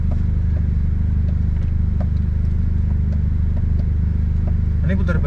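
Motorcycle engine idling and rumbling nearby while turning around, a steady low throb with light clattering and a brief voice near the end.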